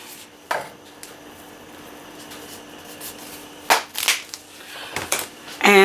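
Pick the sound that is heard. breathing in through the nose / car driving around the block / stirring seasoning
stirring seasoning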